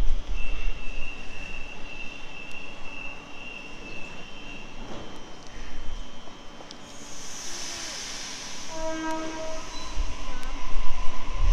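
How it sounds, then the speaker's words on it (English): A Sydney Waratah train on the T8 line rumbles past close by at Wolli Creek, with wheel and rail noise, squealing tones and a brief high whine, rising and falling in loudness without speech. "Now we're at the T8. We've got a Waratah here, yeah."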